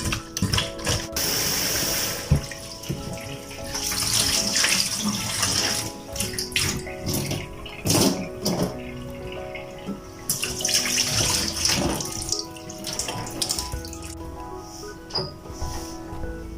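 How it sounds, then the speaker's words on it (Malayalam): Tap water runs into a sink while prawns are rubbed and rinsed with salt and squeezed juice for a prawn biryani, splashing and gurgling in uneven surges for the whole stretch, close by, with no talk. "നന്നായിട്ടിങ്ങനെ ഞെരടിയൊന്ന് കഴുകുക"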